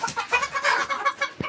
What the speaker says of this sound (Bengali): এই যে মুরগিটা,